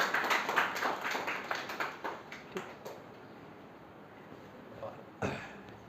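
An audience in a classroom test session claps in a brief burst of scattered, moderately loud hand claps that fades into quiet room noise, with a couple of isolated claps near the end.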